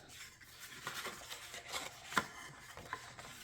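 A paper slimline gatefold card being folded into mountain and valley folds: faint, close rubbing and creasing throughout, with one crisp sharper crease partway through.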